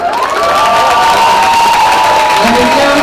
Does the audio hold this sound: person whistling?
no